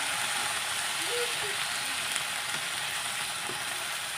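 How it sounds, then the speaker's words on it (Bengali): Potato and cauliflower frying with reddened spices in a pan give a loud, steady, even sizzle throughout, with only faint occasional scrapes; no one talks. "যখন মশলাগুলো লাল হয়ে গেছে তখন আলু আর ফুলকপি দিয়ে দিলাম"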